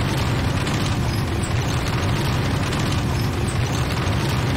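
A destroyed GDI unit in the Renegade game blows up in a loud, continuous explosive roar, a dense rumbling blast filling the whole stretch without breaks.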